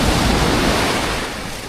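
Ocean waves at Playa del Coco, Costa Rica wash in as a loud, continuous broadband roar that eases off slightly toward the end, with no voices.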